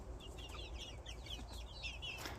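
Backyard chickens near a neighbor's fence chatter in quick, high clucks over a low background hum, several birds calling in short bursts at moderate distance.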